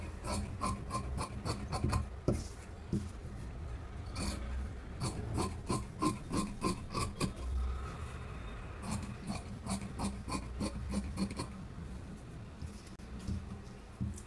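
Scissors snip through sleeve fabric in quick rhythmic bursts of crisp cuts during tailoring, close and fairly quiet, with short pauses between runs of snips.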